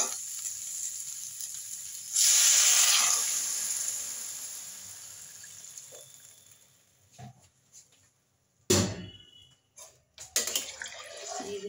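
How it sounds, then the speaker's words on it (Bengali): Water is poured into a hot pan of cooking potatoes in a fish-head and potato curry, a loud hissing sizzle that rises suddenly, then fades, followed by a few scattered clatters. "দিয়ে দিলাম জল পরিমাণ মতো"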